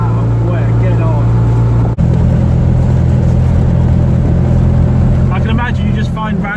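A 16-horsepower engine runs with a loud, steady low drone that continues throughout, broken by one brief dip; a voice speaks over it near the end.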